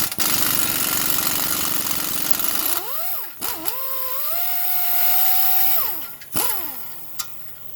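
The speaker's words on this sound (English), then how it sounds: "just blip the throttle on your gun just a bit to break it free, because all of this rust tight will hold it in there forever" An impact gun hammers at a rusted lower ball joint bolt on a 2014 Kia Rondo, first a loud dense rattle, then revving bursts with whining pitch rises and falls as the trigger is blipped.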